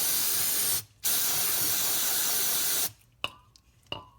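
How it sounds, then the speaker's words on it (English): Brake cleaner sprayed from an aerosol can onto a vehicle suspension bushing, a loud steady hiss with a brief pause, then a few short bursts. "So the first thing we're going to do is just going to hit it with some brake clean"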